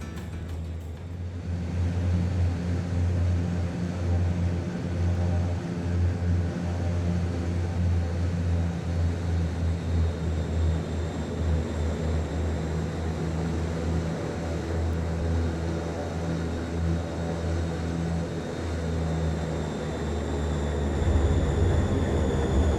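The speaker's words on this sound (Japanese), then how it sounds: "95ノット以上の速度でアプローチを続け着陸します。" Fokker F27 Friendship turboprop on landing approach in Microsoft Flight Simulator, a steady loud engine drone with a constant propeller hum and whine holding unchanged for the whole stretch, no voices.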